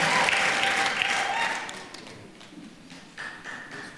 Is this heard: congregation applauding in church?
yes